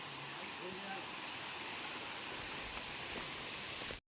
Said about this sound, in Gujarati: જો પાણીના ઝરણા બરણા આવે, અવાજ આવતો હશે,